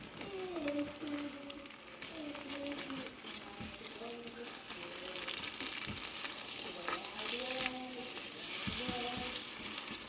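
Scrambled eggs sizzle and crackle in a frying pan, a steady close-up frying hiss. A voice speaks intermittently over the cooking noise.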